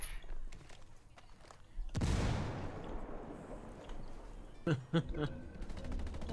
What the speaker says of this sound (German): die Schüsse kommen vom Absetzbecken